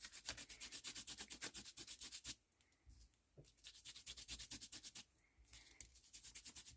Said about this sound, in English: I'm just going to put my finger in and I'm just going to rub over